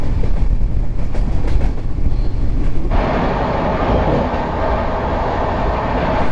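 Long-distance train running toward Kanpur Central, steady heavy rumble of wheels and carriage noise from on board, rougher and wind-buffeted at first, then a smoother continuous roar.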